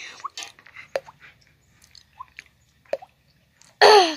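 A voice imitates water droplets with mouth sounds, a few short hollow plinks spaced apart, ending in a louder breathy burst.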